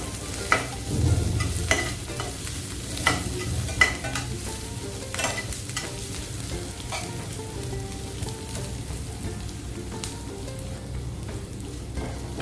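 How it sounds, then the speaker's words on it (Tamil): Onion sautéing in a pan for a snake gourd dish, a steady soft sizzle under repeated scraping stirs and occasional clinks of the spatula, close by with no talking. "வெங்காயம் நல்லா வதங்கிச்சு"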